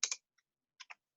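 Quick keystrokes on a computer keyboard: a close, crisp double tap, a faint single click, then two more taps, in an otherwise quiet room.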